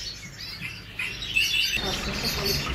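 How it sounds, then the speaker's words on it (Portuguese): Male Yorkshire and Lancashire canaries singing nearby, with bright, rapid chirps and trilling phrases that grow busier and louder partway through. "Canário macho e York."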